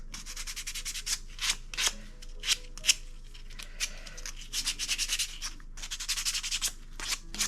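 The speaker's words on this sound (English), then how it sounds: "Just sand these guys." Hand-cut birch log pieces are sanded by hand in close, rhythmic scratchy rubbing strokes that come in quick irregular bursts with short gaps, with no talking.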